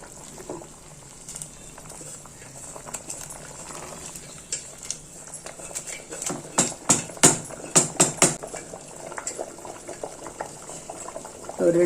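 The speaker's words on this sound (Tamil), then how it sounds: "ஒரு 2 நிமிஷம் கொதிக்கட்டுங்க," Spicy gravy seasoned with chili powder bubbles in a pot, a steady low simmering hiss broken by a run of louder, sharper pops and plops midway before settling back.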